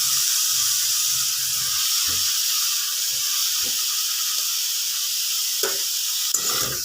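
Bitter gourd sizzles in a hot pan, a steady close hiss running through the whole stretch with a few soft knocks of stirring.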